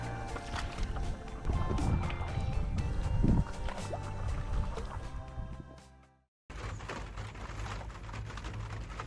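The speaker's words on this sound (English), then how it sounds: "Paddling into the sunset." Kayak paddle strokes dipping and splashing on water, with drips and a steady wash of water throughout, moderately close, no talk; a brief dropout breaks the sound near the end.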